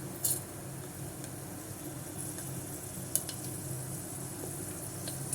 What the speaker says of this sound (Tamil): எண்ணெய் காஞ்சிடுச்சு சிறிதளவுக்கு வெந்தயம் சேர்த்துக்கலாம்